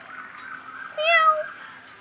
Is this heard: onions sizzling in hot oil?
no